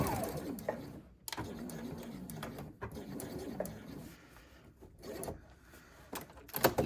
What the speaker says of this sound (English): Back stitch and sew straight to the end.